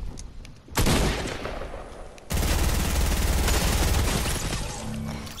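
Rapid bursts of video game gunfire from a first-person shooter, a short volley followed by a longer sustained automatic stream, loud and close with no talking.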